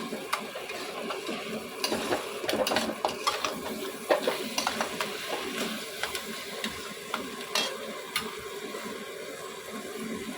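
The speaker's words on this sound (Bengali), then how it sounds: "পাতাটা দেওয়ার পরে একটু নাড়াচাড়া করব।" Spicy crab masala being stirred in a pan, with a steady run of scraping and clinking of a utensil against metal over a soft sizzle, close and moderately loud with no talk.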